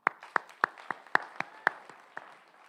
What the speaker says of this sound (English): One more applause for them.